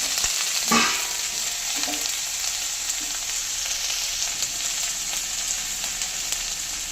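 Shrimp hits a pan of fried onion, garlic, green and dried chillies with a sharp initial sizzle, settling into a steady, close frying hiss with occasional stirring scrapes.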